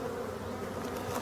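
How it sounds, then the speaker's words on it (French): Honeybees hum in a dense, steady drone close to a small seven-frame nucleus hive heavy with pollen, a brief continuous buzz with no voices. "Alors ça c'est une ruchette, c'est une ruche sur 7 cadres."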